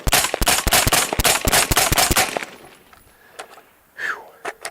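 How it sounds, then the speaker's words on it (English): A Radical Defense MK1 Mod 1 14.5-inch patrol rifle fed from a KCI translucent magazine fires a rapid string of about ten loud, close gunshots, followed by quieter handling noises. "So 10 more rounds out of another KCI"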